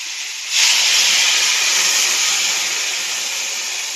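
Water hits a hot pan of fried spices and vegetables with a sudden loud sizzling hiss that swells, then holds steady and slowly eases over several seconds.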